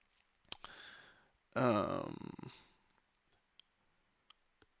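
A single loud, drawn-out burp right into the microphone lasts about a second and stands out against a quiet room. Small scattered clicks come before and after it.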